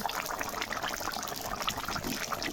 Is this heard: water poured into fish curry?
yes